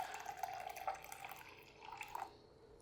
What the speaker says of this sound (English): Hit it with a little hot water,